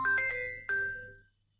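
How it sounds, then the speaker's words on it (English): A mobile phone ringtone for an incoming call, a short bright electronic chime of a few quick tones and then a final ringing note that fades out, clear and fairly quiet with no voices. "Who is calling me?"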